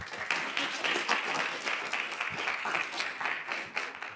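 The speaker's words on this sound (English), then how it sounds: "could I please get a round of applause for our subject coordinator" Applause from a lecture audience at a university algorithms class, a steady crowd of clapping hands filling the room at moderate loudness for several seconds.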